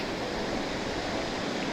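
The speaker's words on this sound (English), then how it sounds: "Beautiful waterfall after the portage." Waterfall on David Creek in Killarney, Ontario, just past a portage: a steady, dense rush of falling water that fills the whole clip at an even, fairly close level, with no voices.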